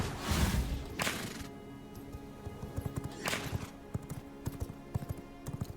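Horse hooves clip-clop in a steady rhythm as a horse trots in the video game V Rising, with a couple of louder whooshing impacts early on, fairly faint overall.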